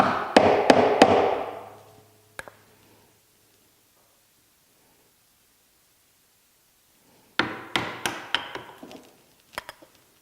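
A mallet striking a chisel to chop dovetail waste from a wooden board, heard as crisp close knocks in two clusters of four or five blows with a quiet pause between.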